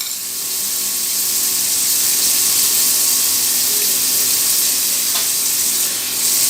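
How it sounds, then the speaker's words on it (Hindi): A steady, loud sizzling hiss of garlic-ginger paste frying in a hot pan, with no voices. "अब ये हम इसमें लहसुन अदरक का पेस्ट डाल रहे हैं।"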